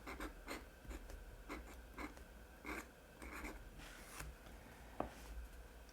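A nib scratching across paper, quiet rhythmic strokes from an old italic fountain pen nib, close up, with soft pauses between short strokes and no talking.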